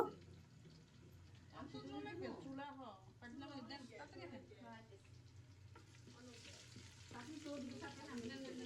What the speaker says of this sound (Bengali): এখন পেঁয়াজ আর তেল ভাজা করে নিব